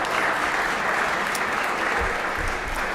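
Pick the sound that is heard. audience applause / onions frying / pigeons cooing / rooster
audience applause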